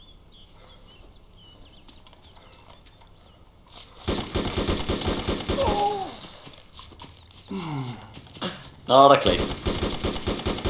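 In an Arma 2 military game, bursts of rapid gunfire break out after a quiet stretch, with loud, rattling volleys and sharp single shots. Players talk briefly over the firing.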